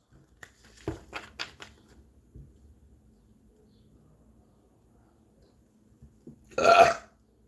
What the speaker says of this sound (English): That could be either a confirmation belch